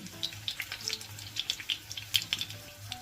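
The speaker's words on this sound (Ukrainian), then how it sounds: "Смажимо м'ясні із рисом котлети на середньому вогні." Meat-and-rice cutlets frying in a pan over medium heat, with steady crackling and small popping spits, close and moderately loud, with no one talking.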